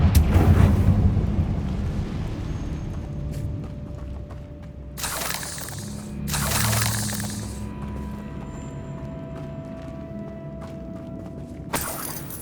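In the Hogwarts Legacy video game, the Confringo fire-blasting curse goes off as two loud, bursting explosions a second apart, each with a roaring rush, over a low ambient hum.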